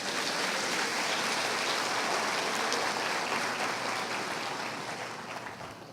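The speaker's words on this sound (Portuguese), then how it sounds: "Quem pode aplaudir Jesus?" A church congregation applauds Jesus during a worship service: dense, sustained clapping from a large crowd that fills the room throughout and tapers slightly toward the end, with no voices standing out.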